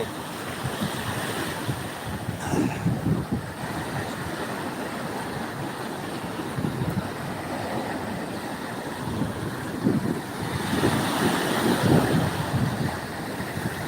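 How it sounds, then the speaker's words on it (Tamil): Sea waves surging and crashing steadily on a beach at Thiruparankundram, a continuous roar with swelling breaks and gusty wind buffeting the microphone, no voices. "கடல் அலைகள் ஓவராக இருக்குது"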